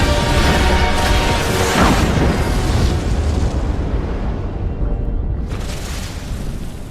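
A massive explosion in an animated giant-robot-versus-alien film roars as a loud, sustained rumbling blast that fills the whole stretch, fading slightly before a fresh burst of debris noise near the end.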